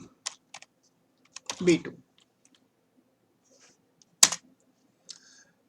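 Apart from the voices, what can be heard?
typing a formula on a computer keyboard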